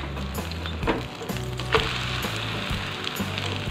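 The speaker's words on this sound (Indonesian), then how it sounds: "Sekarang aku mau goreng lagi sampai telurnya matang." An egg sizzles steadily as it fries in a hot pan, with a few scraping and tapping sounds from a utensil over the frying.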